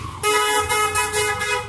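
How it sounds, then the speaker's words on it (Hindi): A loud, close horn fitted to a new Yamaha FZ motorcycle sounds in a series of sustained blasts with brief pauses between them, steady and penetrating, with no talk over it. "गाड़ी का एक बार हॉर्न सुनाओ, हॉर्न सुनाओ, हॉर्न"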